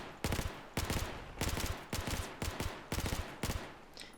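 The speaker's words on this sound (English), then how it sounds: "People just tap fire with the FAMAS like so." A FAMAS rifle in Battlefield 4 fired in short controlled bursts, seven evenly spaced volleys of two or three sharp shots each, punchy and close with no speech.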